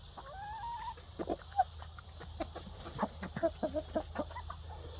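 Several barnyard roosters, including a Barnevelder, a Maran and an Easter Egger, cluck and call in short bursts close by, with brief clucking notes scattered through the clip over steady low background hum.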